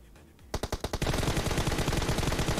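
Gunfire in the mobile battle-royale game PUBG Mobile: a few separate sharp shots, then a fast, continuous automatic burst rattling loudly and close to the end.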